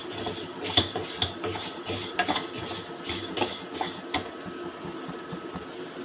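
A utensil scrapes and clinks against a pan while vermicelli roasts for semiya payasam, irregular stirring knocks and scratches at moderate loudness, fairly close, with no talking.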